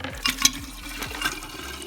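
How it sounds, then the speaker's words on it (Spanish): Ice-cold water pouring into a glass jug filled with ice and green tea bags, a steady gurgling splash with a few brighter clinks of ice rising over the flow. "Y vamos a vaciar agua helada."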